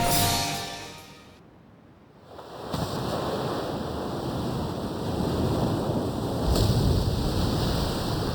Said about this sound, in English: The hrimfaxi's antenna has appeared above water. It's surfacing.